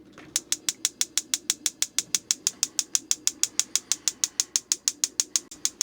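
RV propane stove igniter clicking in a fast, steady run of about thirty sharp ticks while air is purged from the gas line, loud and close with no voices.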